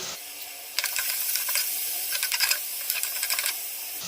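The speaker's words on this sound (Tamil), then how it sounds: "வெங்காயத்தை நல்லா வதக்கிக்கலாம். கலர் லைட்டாக சேஞ்ச் ஆகிற வரைக்கும் வதக்கிக்கலாம்." Sliced onions and green chillies sauté in hot oil for a mutton kurma, giving a steady close hiss with bursts of crackling sizzle as the pan is stirred.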